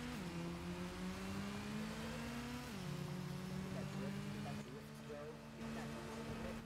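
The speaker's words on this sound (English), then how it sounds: "I cannot hear you over the motorcycle" Motorcycle engine in the Gotham Knights video game, a steady droning hum with shifts in pitch as it accelerates, running continuously at moderate level.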